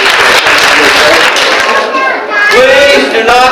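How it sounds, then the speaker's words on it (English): Children and adults at a library magic show clap for a volunteer in a short burst of applause, with talking heard over and around the claps. "Give her another round of applause."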